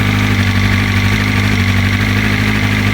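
A BMW M1000RR with an aftermarket exhaust idles loudly and close, a steady deep throbbing rumble held evenly throughout.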